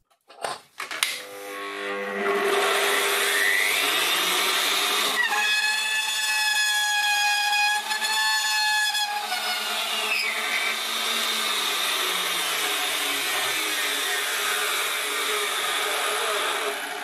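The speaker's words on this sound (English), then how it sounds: "it really makes the bandsaw blade squeal" A bandsaw blade squeals as it cuts through stainless steel threaded rod, a loud sustained metallic shriek with wavering high tones that starts after a couple of sharp knocks and runs steadily to the end, with no talk.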